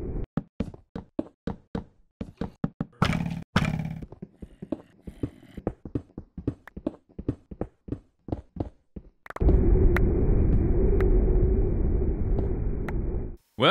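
In Minecraft Beta 1.8, a storm's steady rain and wind roar in loudly and continuously during the second half, after a long run of rapid, evenly spaced knocks and taps from digging or blocks being placed.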